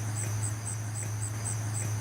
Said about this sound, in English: then you can start hearing the crickets